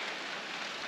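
Rain falls steadily in the woods during a moose hunt, a soft, even hiss with no distinct drops or pauses across the brief stretch.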